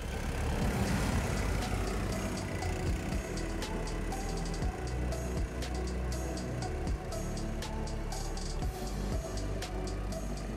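A Dobrinya tracked ATV driving out onto thin frozen swamp ice, its engine droning steadily and heavily throughout with occasional sharp clunks and cracks, no talking.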